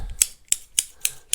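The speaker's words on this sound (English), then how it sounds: "scissors" Scissors snipping five times in an even rhythm, crisp and close, with quiet pauses between cuts and no talking.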